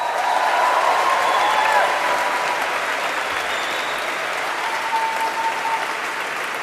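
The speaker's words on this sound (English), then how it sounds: "why don't you give yourselves a round of applause?" Graduating class of 2012 applauding themselves at a commencement ceremony, a broad sustained roar of clapping from a large crowd with faint cheers and whistles mixed in.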